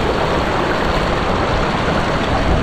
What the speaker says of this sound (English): Strong current because of the rains.